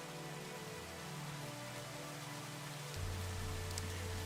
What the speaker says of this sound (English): we have a rainy day on our hands